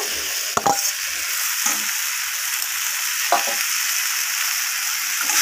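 Fried pointed gourd pieces go into a pan of sizzling masala with potatoes for an egg omelette curry, a loud steady frying hiss with a few sharp clinks and scrapes of stirring, no voices.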